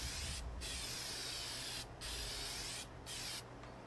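Spray-on textured bed liner paint sprayed onto an off-road cargo trailer camper, a loud close continuous hiss in long bursts separated by brief gaps where the trigger is released, with no talk.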